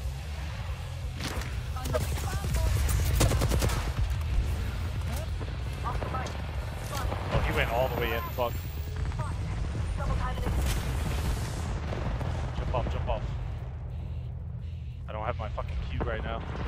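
Squads trading gunfire during a fight in the battle royale game Apex Legends, distant bursts of shots and booms running throughout under a player's nearly constant talking.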